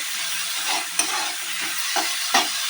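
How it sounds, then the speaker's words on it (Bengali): Sweet and sour jujube chutney being stir-fried in a Bengali kitchen, soft hissing sizzle with repeated scraping strokes of a spoon at an uneven rhythm, close and alone. "তাহলে আমি কিছুক্ষণ ধরে কষে নিই"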